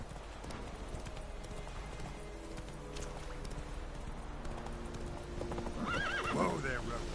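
Roach, the horse in The Witcher 3, gallops with a steady clip-clop of hooves, then gives a clear whinnying neigh near the end, close over game background sound.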